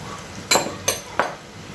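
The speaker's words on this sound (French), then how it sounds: "Je mélange au fur et à mesure le beurre et la farine." Three short scraping clinks of a utensil stirring butter and flour in a saucepan, spaced about a third of a second apart, over a quiet kitchen background.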